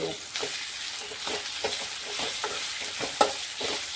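A spoon stirs fried okra with chicken masala in a pan, producing soft scraping strokes at an irregular rhythm over a gentle, continuous sizzle, close and fairly quiet, with one sharper clink near the end.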